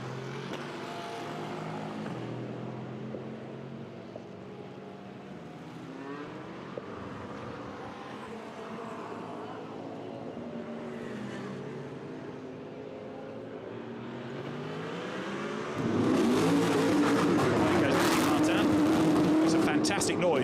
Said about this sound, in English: Fantastic noise, that BMW, especially when it's given lots of welly like that